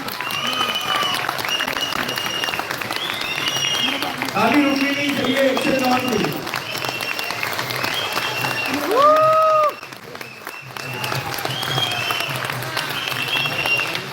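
Loud applause from a crowd at a live trading-company event in Malaysia fills the room, with a host speaking over the clapping and a brief quieter dip near the end.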